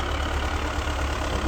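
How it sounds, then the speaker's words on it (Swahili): A tractor engine idles steadily on a snowy street while spreading de-icing chemical in −17°C cold, giving a continuous low rumble with no talking. "Sasa lile trekta ambalo niliwaambia linasambaza ile kemikali"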